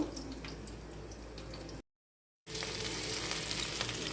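Pointed gourd frying in a pan while being stirred until soft, a close, steady sizzle that drops out completely for a moment, then returns louder and brighter with light stirring; nobody speaks.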